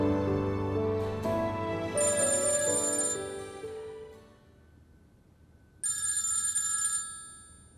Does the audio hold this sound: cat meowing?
no